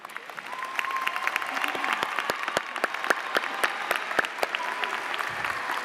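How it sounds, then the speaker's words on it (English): Audience applause fills a high school commencement ceremony as faculty and staff stand to be recognized, a steady mid-distance wash of many hands clapping with scattered sharper claps and no talk. "we ask that they please stand for a round of applause"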